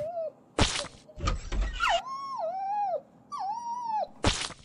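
A dog whimpers and whines in drawn-out, falling cries, broken by a few sharp thuds and a brief scuffle.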